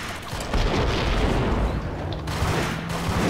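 A grenade going off in the game Max Payne, producing a dense, loud burst of explosive rumble and crackling debris that fills the short stretch.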